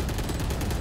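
A brief burst of rapid gunfire in a shooting video game, a dense rattle of quick repeated shots at moderate loudness with a heavy low thump underneath, close and without voices.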